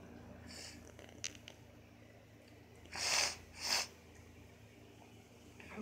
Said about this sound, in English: I'm sorry for my sniffling